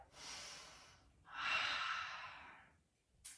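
A deep full breath during a gentle beginner's yoga flow: a long airy inhale, a brief pause, then a longer, louder exhale, close and unvoiced, with a short sniff at the end.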